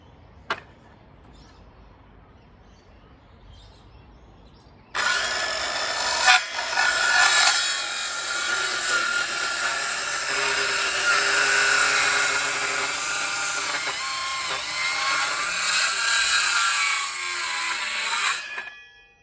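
Hand-sawing through a large, heavy wooden fencepost: near, loud, steady rasping strokes that start suddenly after a quiet moment and continue for about fourteen seconds before stopping.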